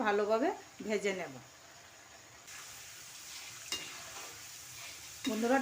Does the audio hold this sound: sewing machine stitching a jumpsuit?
no